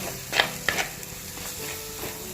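Roasted masala paste is stirred in a clay pot over heat, with a few scraping strokes of the spoon over a soft, continuous sizzle.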